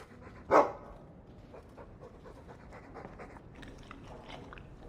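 A dog in the Dragon Age II video game pants and bites, opening with one sharp, loud snap before a steady stretch of quieter, breathy panting.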